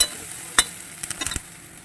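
Cauliflower, potato and peas sabji frying lightly in a pan, with a faint steady sizzle broken by a few sharp clinks and scrapes of stirring, close by and with no voices.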